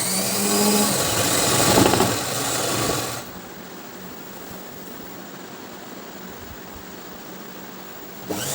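A sewing machine stitches a fall onto a saree edge, running loud and steady for about three seconds before stopping, leaving faint room noise.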